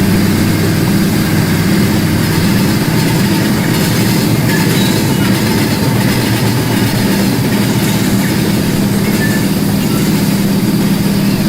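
An Amtrak train in the model railway game Rolling Line rumbles past as a loud, continuous drone of engine and rolling wagons, steady throughout with no pauses.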